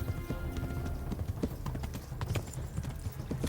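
Horse cantering in Kingdom Come: Deliverance, rapid rhythmic hoofbeats close and prominent with game background noise.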